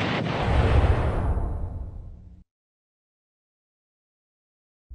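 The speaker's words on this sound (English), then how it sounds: "His head just exploded in that tantrum." A loud, rumbling explosion effect for a head bursting in a comedic tantrum sketch booms and decays over about two seconds into silence, with a brief thump at the very end.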